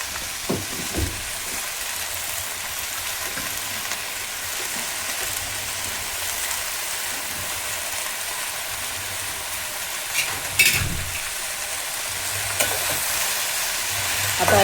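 Moringa leaves bhaji fries in a pan, a continuous dense sizzling hiss under repeated scraping stirs, close and steady, with a couple of sharper knocks of the spoon near the end.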